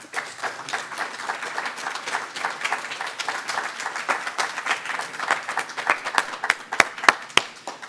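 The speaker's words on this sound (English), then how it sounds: "Let's give another round of applause for all the readers today, our fabulous readers." Audience applause for readers at a literary reading event, moderate clapping from a modest crowd that grows slightly more scattered, with a few sharp individual claps standing out toward the end.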